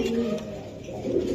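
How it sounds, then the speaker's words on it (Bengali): A pair of Tula pigeons coo at a pigeon market, a soft low throaty cooing that swells at the start and again near the end of a brief moment, close by, under chatter and speech. "এক জোড়া তুলা কবুতর দিলাম"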